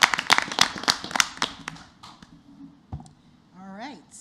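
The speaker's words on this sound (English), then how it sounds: "Let's give them a round of applause" Applause at a school district board of education meeting, a quick burst of scattered clapping that thins out within about two seconds, followed by brief talk nearby.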